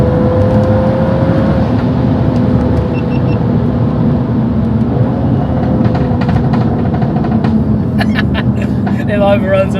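A 3-litre stage 2 BMW M135i droning steadily at speed with continuous engine and road noise, then small pops and crackles on overrun toward the end, while people talk inside the car.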